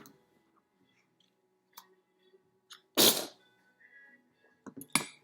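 One sharp, close sneeze bursts out from near silence, with a few faint clicks and rustles around it and a smaller snort-like sound shortly after.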